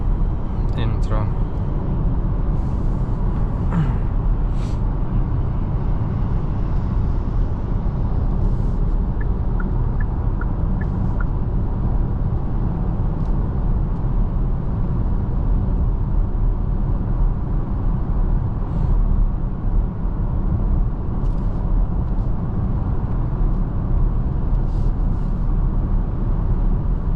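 Cabin of a 2026 Kia Sportage 1.6 T-GDI AWD cruising on a highway outside the city, a steady low road and engine rumble with faint wind hiss, under someone talking throughout.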